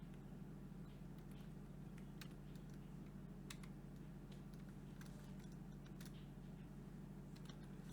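Code being typed on a computer keyboard, quiet scattered key clicks in short irregular bursts over a faint steady room hum, with no talking.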